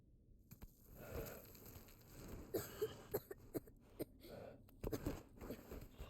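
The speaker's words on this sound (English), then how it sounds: "Does the boy always cough there?" A boy coughs several times in The Last Guardian, short sharp bursts spaced irregularly over faint background ambience, fairly quiet and close.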